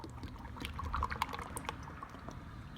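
Motor oil poured from a quart bottle into the engine of a 2015 Toyota 4Runner during an oil change, a soft continuous glugging trickle heard up close and fairly quiet.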